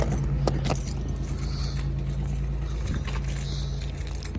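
A car engine idling after a cold start, a low steady hum with faint clicks and a light jingle near the start.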